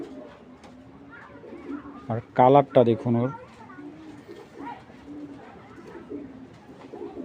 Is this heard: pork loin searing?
no